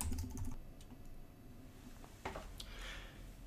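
Fingers tap out a short burst of keystrokes on a computer keyboard, entering a password into a login box; the quick, light clicks come close and clear with no one speaking.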